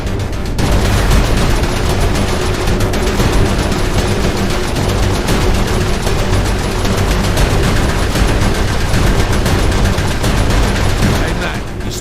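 Dense, continuous turret gunfire in the video game Saints Row 4, fired at ships, a loud unbroken barrage of shots and booms filling the whole stretch with no pause.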